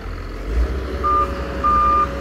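An XCMG EX215c excavator being loaded onto a large trailer gives two loud, sharp reversing beeps over a continuous low diesel engine rumble.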